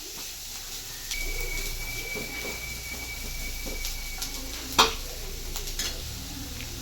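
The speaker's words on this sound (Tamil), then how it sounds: "அந்த வெஜிடபிளை நல்லா அந்த வெங்காயத்து கூட நல்லா சேர்த்து ஃப்ரை பண்ணிடுவோங்க" Vegetables and onion stir-fried in a pan for egg fried rice, a soft steady sizzle with faint stirring scrapes and one sharp clink near the end, heard alone.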